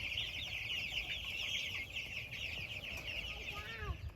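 Steady chorus of half-grown young chickens clucking and peeping nearby, a busy continuous flock sound with a few higher chirps toward the end.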